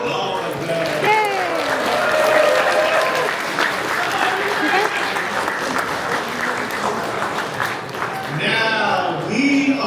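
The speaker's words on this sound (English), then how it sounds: "give a round of applause to all of them" Audience at CarrierCon 2024 applauds all of the show's competitors, steady broadband clapping with cheering voices mixed in, loud and sustained for about ten seconds before tapering as voices rise near the end.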